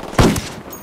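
A short, loud burst of rapid gunfire in the tactical shooter Ghost Recon Wildlands, a single close volley that dies away within a fraction of a second.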